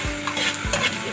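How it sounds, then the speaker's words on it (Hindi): Coarsely cut garlic, half a spoonful, sizzling in hot oil in a pan while being stirred, a steady close fry with two brief scraping strokes of the spoon. "इसको भी हम फ्राई कर लेंगे"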